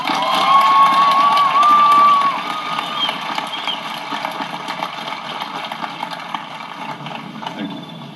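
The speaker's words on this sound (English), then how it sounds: "Please join me as we honor these students with a round of applause" A large crowd at a school promotion ceremony erupts in sustained applause mixed with cheering and children's shouts, with a shrill whistle piercing through early on before the noise settles into a steady, slightly fading roar.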